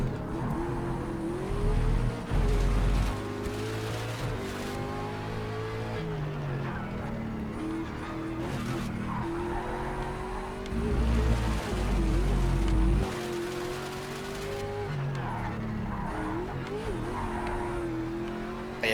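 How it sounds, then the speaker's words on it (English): Race cars, including a Panoz car, lap a track in a racing game, with engines droning and revving through gear changes. A few louder passes stand out, and faint talk may sit underneath. "So yeah, Nick up here in the Panaz car."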